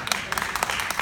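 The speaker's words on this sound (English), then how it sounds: "that was nice clapping" Hand clapping in scattered, uneven bursts, a handful of sharp claps close by over a short moment.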